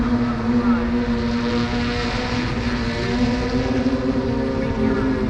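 BlackFly eight-motor electric aircraft coming in to land at an airshow: a steady, loud propeller drone with a constant whine, sustained throughout amid outdoor crowd ambience.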